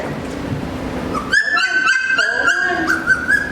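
Hungry four-week-old merle Aussiedoodle puppies whimper and yip close by, a high thin whine that starts suddenly and repeats in short rising cries over a low background murmur.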